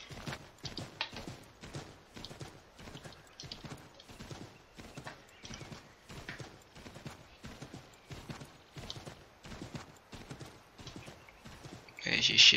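Horse hooves clip-clopping in Assassin's Creed 3, a steady rhythmic run of hoofbeats throughout, with someone talking over it.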